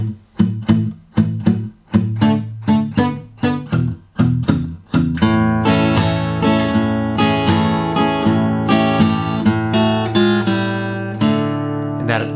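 An acoustic blues guitar plays an A shuffle, starting with sharp separate strums and settling into a driving, swung rhythm, close and clear with no talking.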